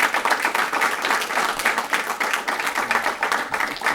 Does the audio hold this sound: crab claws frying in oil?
no